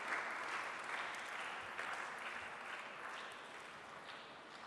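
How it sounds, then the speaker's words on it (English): Conference audience claps at a live event, giving a speaker a big round of applause. Dense, sustained clapping from a large crowd fills the hall at moderate distance and fades gently toward the end. "give sir a big round of applause"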